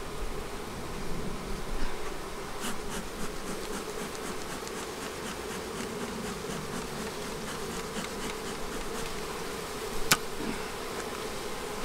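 Honeybees hum in a dense, continuous drone around an opened, queenless hive in a bee yard, with occasional brief clicks and knocks of hive handling over the steady buzz; no one speaks.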